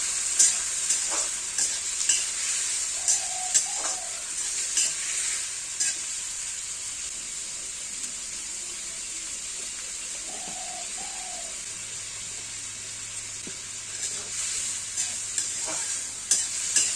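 Potatoes and onions frying in oil, a soft continuous sizzle with occasional stirring clicks, while pigeons coo faintly in the background.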